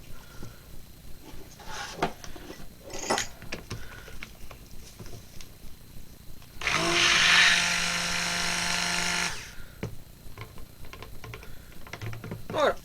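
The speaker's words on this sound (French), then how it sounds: "Je prends mon mixeur et vraiment il faut y aller doucement." A handheld stick blender mixes soap batter made with lye and coconut water, running in one steady whirring burst of about three seconds between quieter clinks and handling noises.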